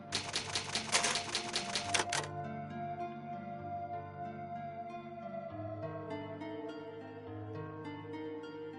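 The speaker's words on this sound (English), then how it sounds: "Alright, it's an old typewriter." Old typewriter in the Resident Evil Remake save room: a quick burst of about a dozen crisp key clacks lasting two seconds, then a slow, eerie musical save theme carries on alone.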